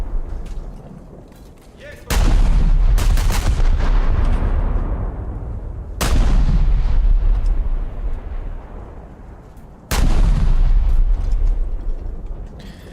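Heavy naval guns from the battleship Iron Duke boom out in a naval video game, three big blasts each followed by a long rumbling decay as an enemy Scharnhorst detonates, loud and close with no talk.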